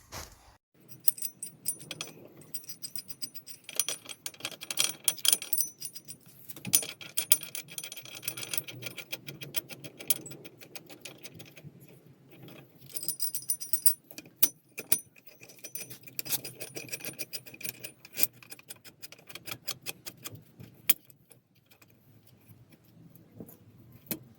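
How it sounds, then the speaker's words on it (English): A spring compressor works on the old front coil spring from a Honda Civic, giving irregular metallic clicks, clanks and ratcheting taps that come close up in uneven bursts over a quiet background, with no talking. "So to start off with, we're gonna compress the old spring."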